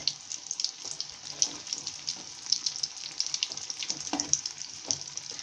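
Leftover idli snack pieces fry in oil in a pan, giving a continuous close sizzle with crackling pops and occasional soft scraping as the pieces are turned over.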